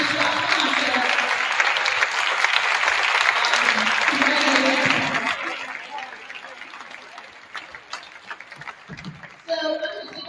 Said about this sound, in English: We give them a huge round of applause.